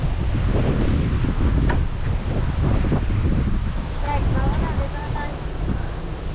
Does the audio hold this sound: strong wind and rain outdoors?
yes